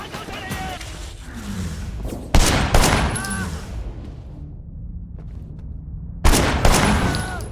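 Video game gunfire in Cyberpunk, sharp loud bursts of shots in two clusters with rapid follow-up fire and a lingering tail, while someone talks over it.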